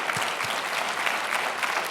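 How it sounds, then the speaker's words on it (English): Conference audience applauding, a dense, continuous roar of clapping from a large crowd, fairly loud and sustained with no speech over it. "Give him a round of applause."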